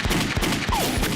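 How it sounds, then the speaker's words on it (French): Cartoon gunshots in a Lucky Luke animated episode, the Daltons firing real bullets, a few sharp cracks spaced apart with a brief whistling ricochet, loud and up front. "Il tire avec des vraies balles maintenant."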